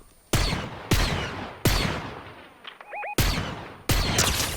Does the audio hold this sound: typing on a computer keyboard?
no